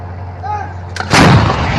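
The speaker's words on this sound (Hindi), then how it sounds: "ये सन 2000 के बाद हो रहा है कि इजराइल की आर्टिलरी और तोपें सीधा लेबनान के अंदर तक घुस चुकी हैं" A single heavy Israeli artillery shot booms close and loud after a low background hum, a sharp blast followed by a rolling, roaring decay that fills the rest of the moment.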